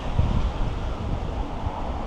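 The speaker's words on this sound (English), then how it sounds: "Sorry, it's very windy" Strong wind at Cape Blanco, Oregon's westernmost point, buffets the microphone in a steady, low roar with gusty rumbling, no voices.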